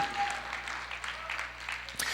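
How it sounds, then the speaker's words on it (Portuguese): A church congregation gives a round of applause for two young people, fairly faint and loosely scattered clapping at moderate distance. "Uma salva de palmas para esses dois jovens lindos aqui"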